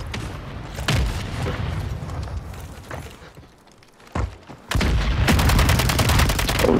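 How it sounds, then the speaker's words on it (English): Mortar strike explosions in a video game: a heavy boom near the start, then a sharp blast near 4.2 seconds and a loud, sustained barrage of rapid detonations and gunfire filling the final two seconds. "Mortar strike inbound now."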